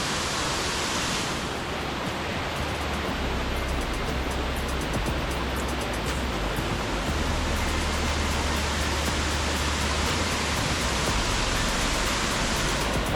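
Steady, loud rush of falling water at Ella Uda Ella waterfall in Sri Lanka, a dense unbroken roar filling the whole scene from close range, with no voices.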